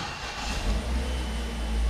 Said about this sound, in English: car flares right up